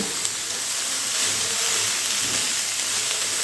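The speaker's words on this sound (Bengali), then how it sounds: "এবারে গ্যাসের ফ্লেমটা মিডিয়ামে রেখে এই বাঁধাকপিগুলো খুব ভালো করে ফোড়নের সঙ্গে একটু ভেজে নিতে হবে" Cabbage frying in a pan with whole tempering spices over a medium gas flame gives a steady, close, even hiss and sizzle that holds for the whole stretch with no talking.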